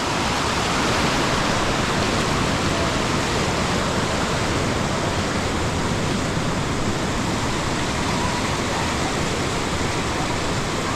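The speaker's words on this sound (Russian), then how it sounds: "Смотрите-ка, река." Mountain river flowing beside the trail to Kaindy lake near Almaty, a loud, steady broadband rush of water with no voices.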